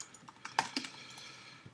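A quick run of light keyboard clicks, a few distinct taps clustered near the middle, fairly quiet and close, with no talking.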